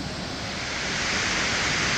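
Taraabu Waterfalls roars as a steady, dense wash of falling water pouring close by, loud and unbroken for the whole stretch with no voices.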